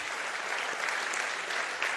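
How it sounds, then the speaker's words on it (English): Audience applauding event sponsors at a city's State of the City address, even, sustained clapping at moderate level with no talk over it. "Please, a round of applause."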